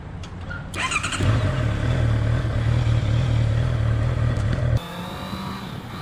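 A 2018 Honda CB650F motorcycle starts off and is ridden, its engine rising into a loud, steady rumble for several seconds before cutting off abruptly into quieter road noise.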